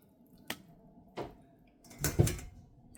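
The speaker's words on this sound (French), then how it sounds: "je vais juste à renverser les nouilles." Noodles poured into a pot of vegetable and meat broth give a few soft wet splashes and squishy plops, close and fairly quiet, with the last pour the fullest.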